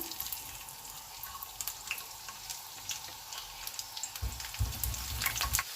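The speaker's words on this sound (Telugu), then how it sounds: "ఆయిల్ వేడైన తర్వాత నేను ముందు ఈ వెల్లుల్లి వేసేస్తున్నాను." Garlic sizzling in hot oil for a Rajasthani-style moong dal and spinach dish, a soft steady frying hiss with faint crackles and a few low bumps near the end.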